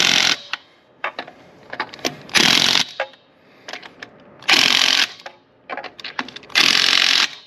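Bursts of an impact wrench tightening lug nuts on the wheel of a 2024 Silverado 2500 HD, several loud rattling hammer bursts separated by shorter clicks and ratcheting, close by with no talk.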